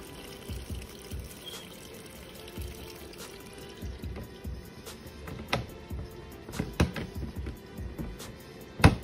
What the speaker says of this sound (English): Now it's rinsing away, but you see all those bubbles?